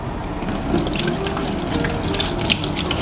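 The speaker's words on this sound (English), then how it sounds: "gotta wash my hands" A kitchen faucet runs steadily while hands are washed beneath it, with continuous close splashing and gurgling water and no voices.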